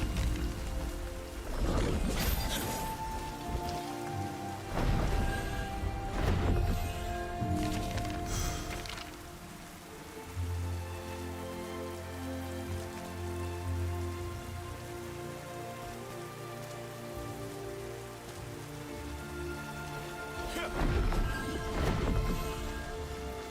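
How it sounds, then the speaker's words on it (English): Rain patters steadily across surfaces in the video game Throne and Liberty, a dense continuous hiss with heavier drop bursts at intervals and a low rumble underneath, without speech. "It's raining."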